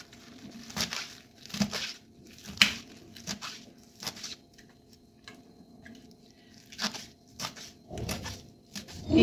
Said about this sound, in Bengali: এবার আমি এই শাকগুলোকে একদম কুচি কুচি করে নেব।